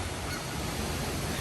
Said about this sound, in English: if that duck right there is looking at me, start running toward me